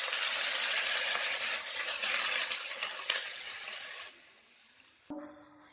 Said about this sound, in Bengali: এবার আমি 2 থেকে 3 মিনিট মতো মশলাটা কষিয়ে নেব